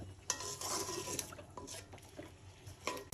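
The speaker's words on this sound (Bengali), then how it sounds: "মশলাটা এখন ভালো করে কষায় নেব সময় নিয়ে।" A spoon stirs and scrapes spice paste with ginger-garlic paste, turmeric and garam masala in a pan, giving soft, irregular clinks and scrapes with a faint sizzle, close and quiet, with no talk.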